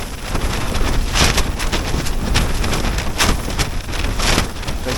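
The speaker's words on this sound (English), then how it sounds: "The wind's coming from this direction." Strong blizzard wind batters a wild campsite, roaring steadily and loud throughout with gusting surges and buffeting noise on the microphone, no talk.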